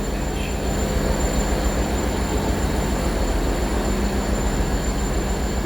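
British Rail Class 450 electric multiple unit running as empty stock, passing close by at Basingstoke on the South Western Main Line, a steady loud rumble of wheels and rail noise with a high whine throughout.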